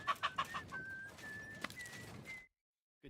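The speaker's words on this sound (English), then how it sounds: "I heard you've got a rather unusual cockerel." A pitch-black cockerel in Kingdom Come: Deliverance II gives a few quick clucks followed by a drawn-out crowing call that stops abruptly before brief silence.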